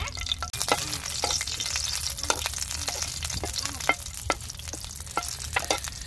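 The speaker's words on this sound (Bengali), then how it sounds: "শুকনা মরিচ দিয়ে দিলাম, খুব সাবধান ফুটবো" Dried red chillies fry in hot oil in a wok with a continuous close sizzle and crackle, sharp pops breaking through at irregular intervals.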